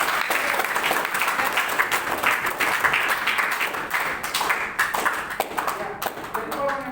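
A church congregation applauds during a sermon, with steady dense clapping filling the space for several seconds and tapering slightly toward the end.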